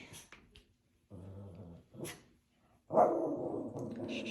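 Several dogs bark and growl nearby, with a short deep growling stretch followed by a louder, sustained burst of barking and snarling.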